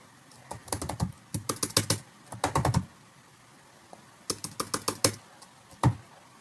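Quick bursts of typing on a computer keyboard while writing React JS code, close clattering key presses in uneven clusters separated by short pauses.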